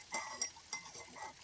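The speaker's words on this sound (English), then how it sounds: "The spoon is me stirring my coffee" A metal spoon stirs coffee in a cup, giving several light clinks and scrapes spread over about a second and a half, quiet and close by.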